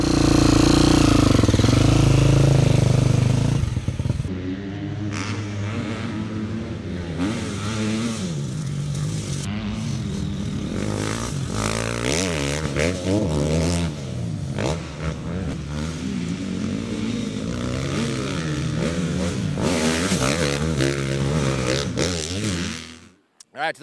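A 2022 KTM 350 SX-F motorcycle engine, loud and close, revs hard at first, then holds a steady, rising and falling note for about twenty seconds before cutting off at the end.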